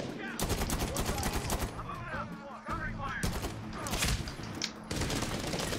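Dense, continuous gunfire from the shooter game Medal of Honor Warfighter, rapid automatic bursts and sharp reports packed together, loud and close, with brief dips between volleys.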